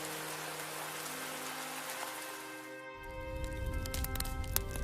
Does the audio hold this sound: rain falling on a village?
yes